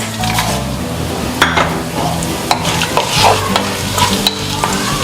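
Dry spices stirred into a hot pan for nalli biryani sizzle and fry, with a spoon scraping and clinking against the pan in an irregular rhythm, close and loud.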